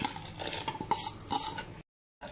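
A metal spoon clinks and scrapes against a pot while washed dried rice is stirred into boiling milk for palpayasam, a busy run of close clattering knocks that cuts to silence near the end before resuming briefly.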